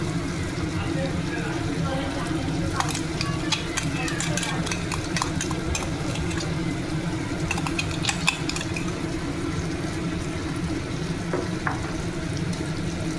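Mutton frying with ginger garlic paste crackles in a steady close sizzle, stirred with repeated scraping clinks of a spoon against the pan, while a low hum runs underneath.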